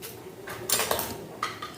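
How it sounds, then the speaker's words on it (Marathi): A spoon clinks and scrapes against the side of a bowl while stirring in a few quick bursts, close by, with no talking. "छानपैकी ढवळून घेतलं"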